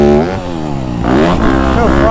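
A motocross dirt bike engine revs hard on a soft, rutted dirt track in Delaware, a loud close buzzing drone rising and falling in pitch through throttle changes, with no speech.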